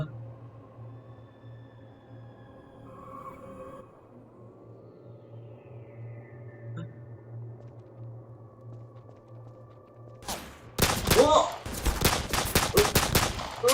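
Rapid bursts of gunfire from a zombie-shooting video game erupt loudly in the final few seconds, following a long stretch of low steady hum and quiet game ambience.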